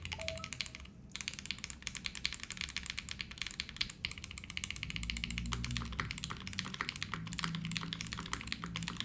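Rapid typing on a Monokei Kei v2 mechanical keyboard fitted with Gateron Ink switches on a copper plate, a dense steady run of clacky keystrokes close up with no talking.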